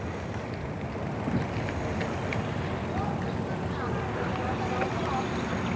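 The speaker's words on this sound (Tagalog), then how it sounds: "Mahangin, mahangin." Strong wind roars in a steady, dense rush that buffets the microphone throughout, loud and unbroken from start to finish.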